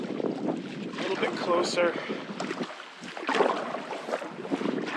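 Gusty wind buffets the microphone beside a lake during a backcountry canoe trip, a steady broadband rush that swells and eases in gusts, with a person speaking briefly over it.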